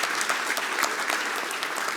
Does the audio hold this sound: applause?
yes